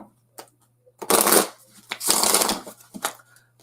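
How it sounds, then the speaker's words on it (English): A tarot card deck is shuffled by hand in two long, loud riffling bursts, each followed by a few short taps and flicks of the cards, in a quiet room. "Let me go ahead and cleanse and clear my deck really quick. I'm shuffling it"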